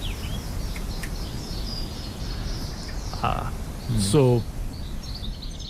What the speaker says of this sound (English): There's some birds again.